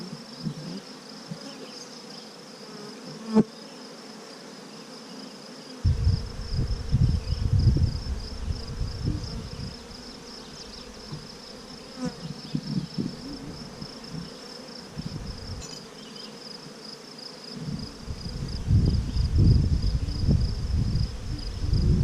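Honey bees hum and buzz steadily during a beehive inspection, with loud close passes of bees near the microphone swelling and fading over a constant drone.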